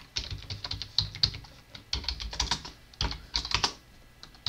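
Close, quiet typing on a computer keyboard, bursts of crisp individual key clicks in an irregular rhythm with short pauses between groups as a username is entered.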